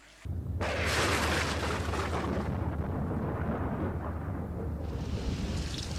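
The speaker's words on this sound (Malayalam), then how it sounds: "ദേ മഴ പെയ്യുന്നു." Steady heavy rain pours throughout, with a deep rumble of thunder rolling underneath, loud and close, no voices.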